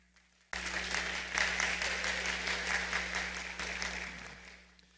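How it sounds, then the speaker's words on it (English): An audience at a high school graduates' awards ceremony breaks into applause for the parents, starting abruptly and holding full, dense clapping for several seconds before tapering off, over a faint steady electrical hum. "and for that, I give you an applause."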